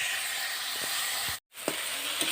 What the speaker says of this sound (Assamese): মই ইয়াত কাটি থোৱা বিলাহীখিনি দি অলপ টাইম ভাজি থাকিম